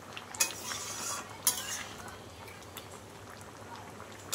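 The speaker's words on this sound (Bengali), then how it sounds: "দেখো টকবক করে ফুটছে ডালটা" Dal cooked with green jackfruit simmers in a covered pot with a soft, faint bubbling. Two sharp metallic clinks of a utensil against the pot stand out near the start.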